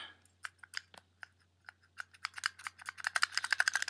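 Rapid clicks from HAPP concave arcade buttons being pressed, starting as sparse single clicks and speeding into a dense, crisp clatter, close and fairly loud with no voices.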